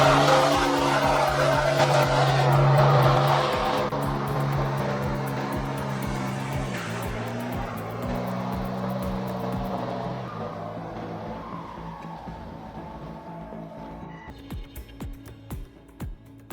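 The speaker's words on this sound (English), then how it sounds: "The muddy and slippery road caused the wheels to sink deeply into the ground, making it impossible for the car to continue moving." Logging truck on a muddy, slippery forest road with its wheels spinning and sinking into the ground, a loud sustained engine roar and churning wheel noise that slowly eases and thins out toward the end.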